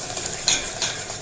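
Hot oil tempering with turmeric and coriander sizzles and crackles in a pan, with a stirring scrape and a few sharper spits, loud and close with no voices.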